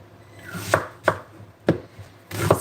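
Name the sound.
knife chopping a whole onion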